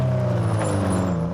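Porsche rally car at a Targa Tasmania road rally in 1997, its engine droning steadily at moderate distance through a tricky corner, alone without talk.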